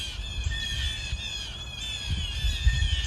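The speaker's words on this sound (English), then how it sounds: "the blue jays are very unhappy right now" Blue jays squawk in alarm in a spring garden, a string of harsh, repeated calls at moderate distance over a low background rumble, with no talking.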